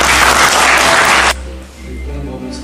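An audience at a talent show for a disability residential facility in Chungnam applauds loudly with dense clapping that cuts off abruptly, leaving a low room hum and faint background sound.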